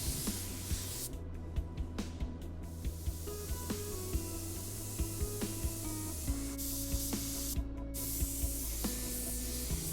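Spray gun laying a full wet coat of sealer across a car body panel, a steady close hiss running the whole time with faint clicks and rattles behind it, no talking.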